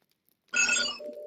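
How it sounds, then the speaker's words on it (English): A mobile phone rings briefly during a game session, a sudden electronic ringing tone with a bright buzzy texture that shifts pitch, close and clear, with no talk over it. "I apologize. It's my phone."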